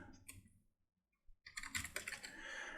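Typing on a computer keyboard, a few quick clicks, then a short pause, then a fast burst of close, crisp keystrokes with no talking.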